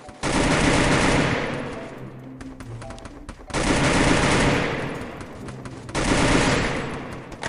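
Loud bursts of AK rifle fire in the Garena Free Fire mobile game rip out in three long automatic volleys, each a couple of seconds long with brief pauses between.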